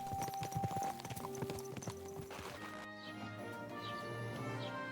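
Rhythmic clip-clop of horse hooves at a steady walking pace in the video game Kingdom Come: Deliverance II, mixed with faint game music and ambient effects, fairly quiet overall.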